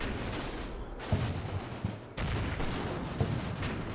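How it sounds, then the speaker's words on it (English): Mortar explosions and gunfire from a World War II-style strategy video game with German and American troops, with repeated booms and bursts of shots over a continuous noisy battle backdrop. "that I think that's a mortar"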